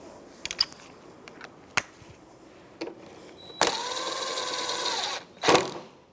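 Ratchet on a 10mm socket snugging a long 6mm bolt on the bottom airbox of a 2007-2010 Chrysler Sebring, a few sharp clicks and one sustained ratcheting burst, close and clear with no talk.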